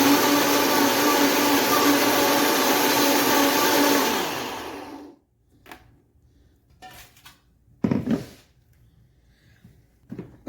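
A mixer grinder crushing spinach leaves with water runs as a loud, steady whirring drone for several seconds, then stops, followed by a few clunks and knocks of the jar being handled.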